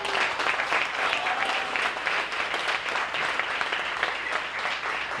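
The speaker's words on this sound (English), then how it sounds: "can y'all give a round of applause to these 4 wonderful women?" Wedding guests applauding four women at a reception, a thick steady wash of many hands clapping at full volume for several seconds, close and continuous without speech.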